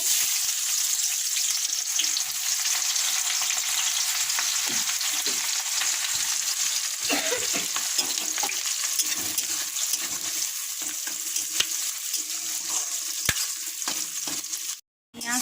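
Fish sizzles and crackles steadily in hot oil in a pan while onions are fried for homemade biryani, a loud continuous frying hiss that runs alone, with a brief drop near the end.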